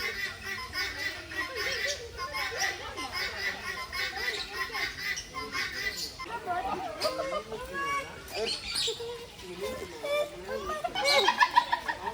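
Chickens, including ornamental fowl, cluck and call around an exotic pets park in Kerala, a busy mix of bird sounds heard close by under steady talk from people.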